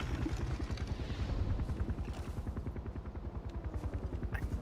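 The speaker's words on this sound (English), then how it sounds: "I hear this helicopter." A helicopter in the video game Diablo IV thuds with a fast, regular rotor beat that carries steadily at moderate volume, with no speech over it.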